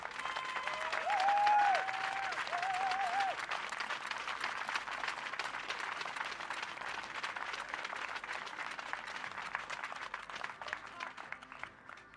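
An audience at a women's recurve archery tour final applauds steadily, the clapping fading gradually over several seconds, with a brief whistle near the start.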